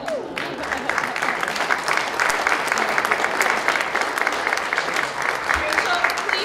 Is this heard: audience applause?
yes